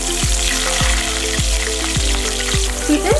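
Fried onion dropped into a sizzling pan of Kerala fish curry, a steady loud hiss of frying with a regular tapping of a spoon against the pan, close up, no talk.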